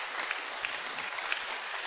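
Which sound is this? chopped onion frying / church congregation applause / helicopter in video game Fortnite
church congregation applause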